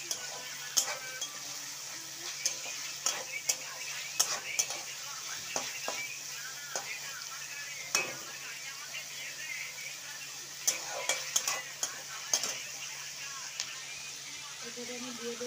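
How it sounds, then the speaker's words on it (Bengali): Spices sautéed with garlic and ginger paste for a Bengali fish curry, a soft continuous sizzle under a faint steady hum with scattered quiet scraping and tapping strokes throughout. "এই মশলাগুলো বেশ কষাতে থাকবে ভালোভাবে।"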